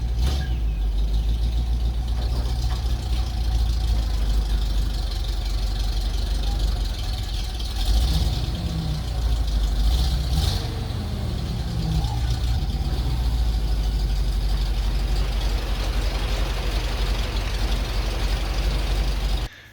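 A dump truck engine idles steadily at low pitch while wet gravel is unloaded from its bed, a continuous rumble with a brief swell partway through.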